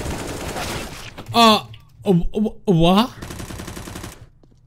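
Rapid gunfire from a Counter-Strike: Global Offensive match, dense bursts before and after a short talking stretch, with a flashbang round in progress and a player's voice speaking over the action.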